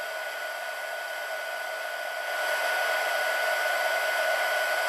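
A heat tool blows hot air onto a clear plastic sheet, producing a steady whirring hiss with a faint whine, close and loud, growing slightly louder midway as it is moved, with no speech.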